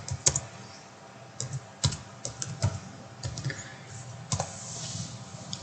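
Typing on a computer keyboard while entering a search into a browser, a run of quiet, close, uneven key clicks in short bursts, with brief pauses between the taps.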